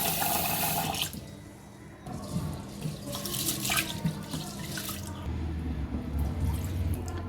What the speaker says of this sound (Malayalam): അപ്പോൾ അതിൻ്റെ വെള്ളം ഒഴിച്ചിട്ട് നമുക്ക് നന്നായിട്ട് കഴുകിയെടുക്കാം